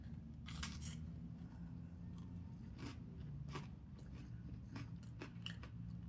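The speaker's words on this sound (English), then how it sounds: "But the freeze-dried stuff, I like munching on it like this." Freeze-dried MRE peaches, 41 years old, are munched close to the mouth, giving quiet, crisp crunches and bites in irregular bursts over several seconds with no talking.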